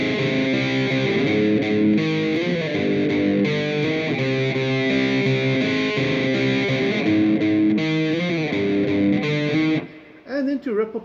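Distorted electric guitar plays a riff in a cover version, a heavy, saturated chugging figure repeating steadily and loud, then breaking off into a few loose notes at the end.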